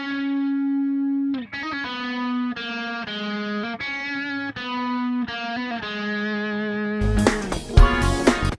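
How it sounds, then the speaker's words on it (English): Distorted electric guitar in a music track plays sustained, buzzy chords through an effects unit in a series of held notes with brief breaks, ending in a loud, noisy crash-like burst. "I believe that the distortion guitar could be a little better"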